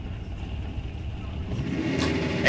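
Drag racing cars at the line idle low, then their engines rise in revs toward launch and build to a louder roar at the very end. Crowd and announcer noise sits faintly beneath.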